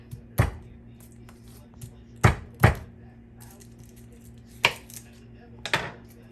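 Whole garlic cloves crushed on a board for Zamboanga-style ampalaya, a handful of sharp, hard thuds spaced irregularly over a low kitchen hum, close by.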